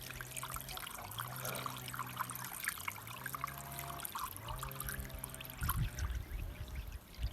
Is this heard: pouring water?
yes